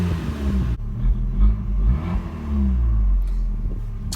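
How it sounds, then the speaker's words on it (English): An Abarth 695C Rivale idles with a deep, throaty rumble from its Akrapovic exhaust, then revs up in a couple of short surges before settling back to a steady burble. "that exhaust note from the Akrapovic exhaust"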